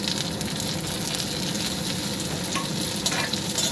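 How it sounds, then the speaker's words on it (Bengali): Steady sizzling of small tomatoes frying in a pan with onions, a continuous crackle with occasional louder pops, close up and without any talking. "ভালো করে আমি টমেটো ভেজে নেব।"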